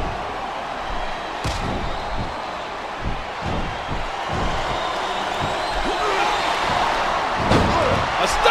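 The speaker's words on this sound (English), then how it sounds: "A stunning slam, knocking the wind out of his opponent." In the Smackdown vs Raw 2009 video game, a Randy Orton versus John Cena match plays out with repeated heavy slam thuds on the ring, crowd noise behind them and commentary running over the top.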